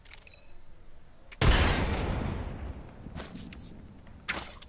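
A frag grenade explodes in Apex Legends with one loud, broadband boom that decays over about two seconds, followed later by a few sharper, fainter impacts.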